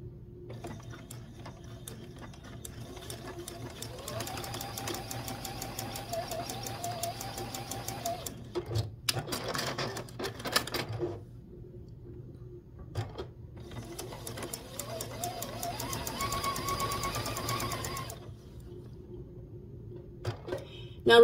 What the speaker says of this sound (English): So I'm going to just start here and start sewing on my lines.